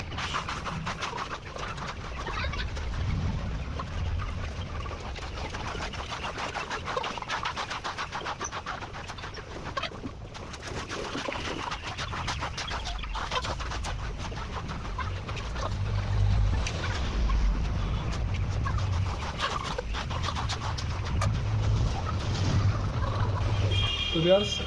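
Layer hens on a farm cluck and mutter as a flock, a busy, continuous din of overlapping calls that grows slightly louder toward the end as water is given to them.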